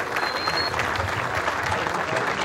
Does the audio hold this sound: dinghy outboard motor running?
no